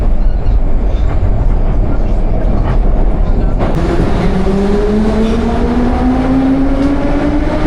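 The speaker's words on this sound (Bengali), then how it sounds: "এখন আমি একদম মস্কোর বেদেনখা মেট্রো স্টেশনের সামনে" A Moscow metro train at a station gives off a loud, constant rumble, joined midway by a rising electric whine as the train's motors speed up.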